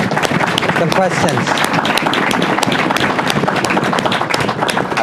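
Applause from an audience at a conversation event, with dense rapid clapping that holds steady for several seconds while a voice speaks briefly over it.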